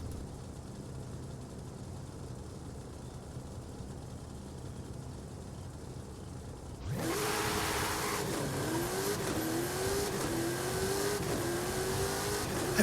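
Race car engine in a racing video game, quiet at first, then a loud sustained drone cuts in and rises and dips in pitch as the throttle is pulsed.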